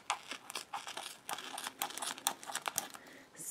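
A knife cuts into a squishy foam food toy with a shiny paper-like top, giving a run of crisp crinkling, crackling snips, close and fairly quiet, in irregular bursts.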